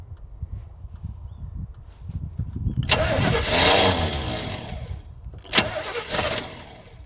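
Engine of a 1978 Chevrolet K20 truck, left sitting for 15 years, cranking over a few seconds, then catching and roaring up loud and close, settling briefly before a second sharp burst of revving.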